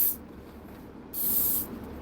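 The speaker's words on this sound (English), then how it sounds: "I spray this spray. Because I don't want my car stinking." An aerosol air freshener sprays inside a car in two close, sharp hissing bursts, the second a little longer, with a faint background hum and no talk.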